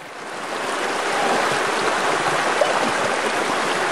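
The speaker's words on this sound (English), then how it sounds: "Here is the path of the river as it flows down the valley" The River Nairn in its middle course, rushing over big boulders and stones in a valley, a steady, dense broadband roar of flowing water with no voices.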